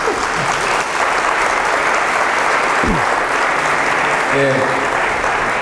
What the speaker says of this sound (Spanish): Bueno, tal vez los aplausos es demasiado.